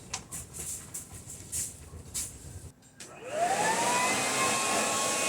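Loud greenhouse floor vacuum with a snap-on collection bag, first sputtering and clattering as debris is drawn in, then a brief dip before the motor spins up into a steady, high whining roar that holds to the end.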